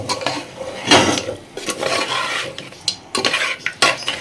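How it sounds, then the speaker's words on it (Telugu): Chicken pickle with ginger garlic paste is stirred in a metal pot, a spoon scraping and clanking against the sides in irregular bursts, close and fairly loud, with no voices. "ఇప్పుడు మనం పచ్చట్లలో బాగా కలుపుకుందాం."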